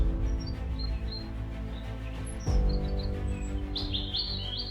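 Migratory birds on the Siberian steppes and lakes give short, high chirps and tweets, scattered and fairly faint over a steady humming drone, growing busier toward the end.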